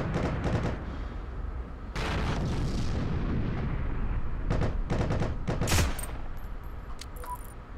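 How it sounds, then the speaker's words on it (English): Semi-automatic rifle fire in the video game Heroes and Generals, several sharp single shots spaced irregularly over a dense, rumbling battlefield background of distant gunfire and explosions, with no talking. "I want to test this semi-auto."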